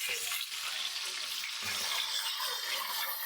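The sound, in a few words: whole chicken frying in mustard oil in a kadai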